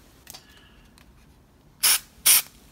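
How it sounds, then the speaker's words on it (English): Two short, loud bursts of bond adhesive sprayed from an aerosol can into a groove, each a sharp close hiss about a third of a second long, after a quiet stretch with faint handling clicks. "you can spray some of the bond adhesive right back up in that groove right there"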